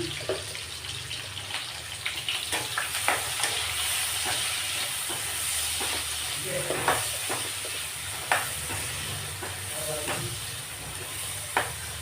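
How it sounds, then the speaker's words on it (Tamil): Onion and curry leaves fry in a pan with a steady, close sizzle, broken by scattered scrapes and clicks of stirring over the full stretch of the sound. "வெங்காயம் போட்டு காய்ச்சி அது கூட கருவேப்பிலையும் சேர்த்தாச்சு."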